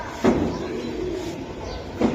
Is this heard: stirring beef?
no